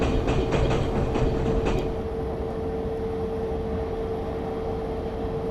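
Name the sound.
ICE 2 train running, video game Train Simulator 2017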